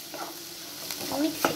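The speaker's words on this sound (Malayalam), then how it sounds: "നമുക്ക് നന്നായി മിക്സ് ചെയ്യാം" Masala for paneer butter masala sizzles in a hot pan while a spoon stirs it, a brief burst of scraping strokes over steady frying with no talking.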